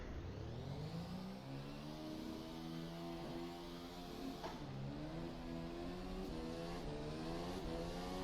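Formula 1 car engine in a racing sim at Zandvoort, pulling away from the pit lane; a steady, loud, close drone with rising gear-change sweeps that climb, drop and climb again through the gears, with no other sounds.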